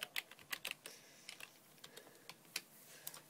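Quick bursts of clicky computer keyboard typing, close and fairly quiet, with irregular keystrokes that cluster at the start and then thin out into scattered taps, no voices present.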